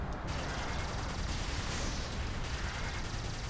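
Rapid gunfire in the video game Saints Row 4, a dense, evenly paced stream of shots blurring into a continuous rattle, heard at a low level with no talk.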